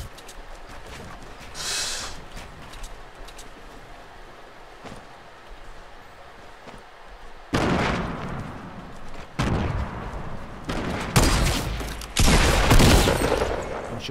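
Gunfire in the Fortnite video game, with bursts of rapid shots and loud blasts that grow denser and louder in the second half after a quieter stretch of low background noise.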